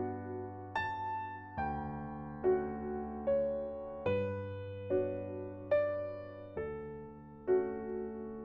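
Piano playing the right-hand melody of Satie's Gymnopédie No. 1 over its accompaniment, slow sustained notes and chords struck every second or so and left to ring, clear and close with no talking.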